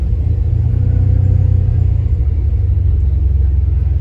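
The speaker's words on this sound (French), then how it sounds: "On entend bien le moteur." A deep, steady Ferrari 599 engine rumble holds at a constant level throughout, close and loud, while driving through Paris.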